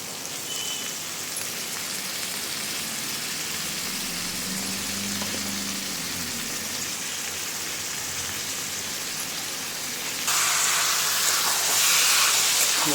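Chicken pieces dropped into a hot pan of oil and spices, sizzling in a steady broadband hiss that swells louder toward the end as more pieces go in.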